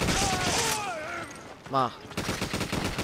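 Bursts of gunfire in Resident Evil 5, repeated shots in a busy fight with a creature shriek midway, under German-speaking voices talking over the action.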